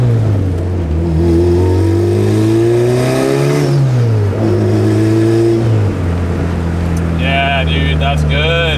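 Turbocharged B-series Honda Civic with a short shifter accelerating hard, its engine note climbing in pitch through the gears, dipping at each shift, with a turbo whistle rising near the end, while people talk over it.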